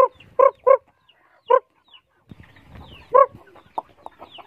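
Chickens cluck repeatedly in short loud bursts at feeding time, with several close calls spaced over a few seconds and softer scratching and rustling between them.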